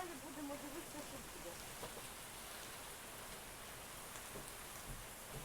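Steady, dense rain hissing continuously across the whole stretch during a thunderstorm downpour, with faint voices murmuring underneath at times.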